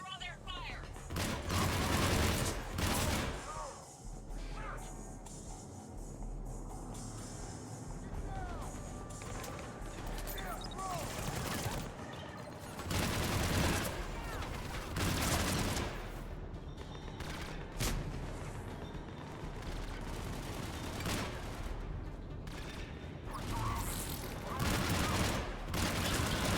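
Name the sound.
gunfire in Mass Effect 3 video game combat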